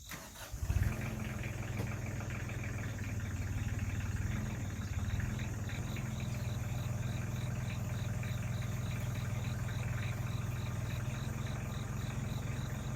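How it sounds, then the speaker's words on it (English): Tractor engine running steadily while lifting a trailer rack on pallet forks, a low, continuous idle-like rumble that starts abruptly near the beginning and holds close and even throughout, with no talking. "I got the rack lifted up with the tractor"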